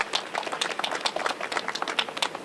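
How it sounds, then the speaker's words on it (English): Applause from a small gathering for students helping at a community infrastructure event, a steady patter of scattered hand claps, fairly close and moderately loud, with no talking over it. "So round of applause for our students helping us today"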